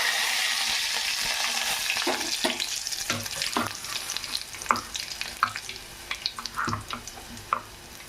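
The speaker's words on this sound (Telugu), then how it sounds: "జీలకర్ర వేసుకొని బాగా ఫ్రై చేసుకుందాం." Cumin seeds crackle and sizzle in hot oil for a crispy potato fry, a steady hiss broken by sharp pops and spatters, with a few clinks as the pan is stirred close by.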